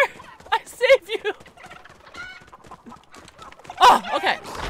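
A chicken bot in Fortnite clucks and gobbles in short, choppy bursts, near and fairly loud, with a louder squawk near the end and a voice-like chatter mixed in.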